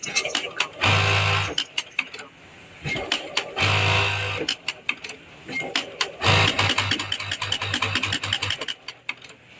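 Sewing machine with a rotary hook running in short repeated bursts, each a rapid mechanical whirr separated by clicks and handling taps, close up, while someone talks over and between the runs.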